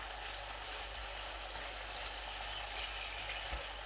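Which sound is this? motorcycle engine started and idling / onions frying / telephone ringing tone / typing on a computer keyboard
onions frying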